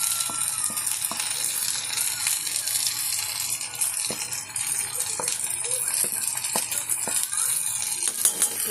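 Ground spices (cumin, coriander, turmeric, chilli) and meat paste frying in oil in a pan, a steady broad sizzle with occasional clicks of a stirring spoon against the pan, close and continuous.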